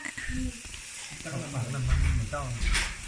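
Steady sizzling and spitting of pork cooking on a hot tabletop grill pan, with voices chatting nearby.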